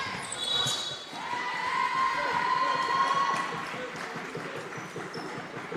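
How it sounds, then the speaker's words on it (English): Scotland crowd at an England versus Scotland under-18 men's basketball game in an indoor arena, a sustained, moderately loud rise of cheering and whistles, with squeaking shoes and a commentator talking over it. "The Scotland crowd are happy about that one."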